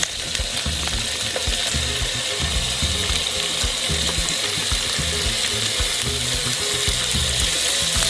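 Prosciutto-wrapped fish sizzles seam-side down in a pan of olive oil, a steady close crackle and spit that runs throughout with small pops and no voices.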